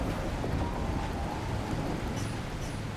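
A thunderstorm in the video game The Last Caretaker: steady, dense rain and rumbling wind fill the scene at close range, with a low thunder roll underneath and no voices.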